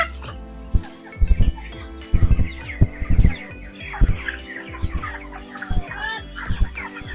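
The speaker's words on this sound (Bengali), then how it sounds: "তো আমরা আরেকটু বড় সাইজ মুরগি দেখবো" Broiler chickens, about 22 days old, cluck on a poultry farm, with repeated close, uneven clucks and squawks rising over a steady barn hum.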